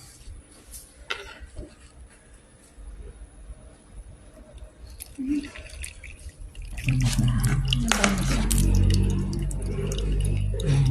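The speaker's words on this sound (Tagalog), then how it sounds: "Tapos, bubuhusan ng mainit na tubig." Hot water poured from above into a glass holding Kapeng Barako coffee grounds, a steady close liquid rush that starts about two-thirds through, following quieter handling noises and drips.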